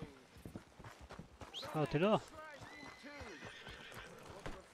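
A horse in Red Dead Redemption 2 whinnies loudly in a rising and falling call, with hooves clip-clopping around it, while someone speaks French over the game sounds.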